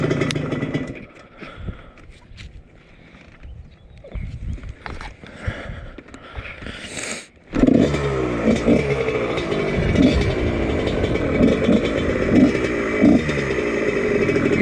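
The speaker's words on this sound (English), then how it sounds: "we put the Pro Circuit exhaust from the O2 on this. It sounds pretty good." A cheap European dirt bike fitted with a Pro Circuit exhaust clatters at first, then its engine roars loudly and steadily from about halfway, close up with a throbbing, revving tone.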